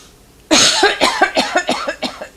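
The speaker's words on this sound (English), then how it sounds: "you take that deep cough just like you did." A deep cough close up: one hard initial burst followed by a run of about eight rapid, diminishing coughing spasms.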